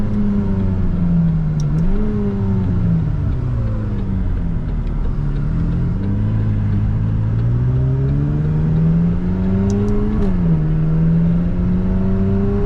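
A McLaren supercar engine drones steadily in second gear as the turbos build. The pitch climbs and dips in sweeping rises, and the engine sounds loud and close from inside the car.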